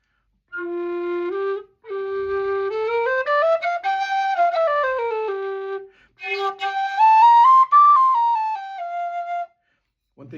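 A Rudder G tin whistle plays a bright melodic line with held notes and runs climbing into the second octave, in three phrases separated by brief pauses.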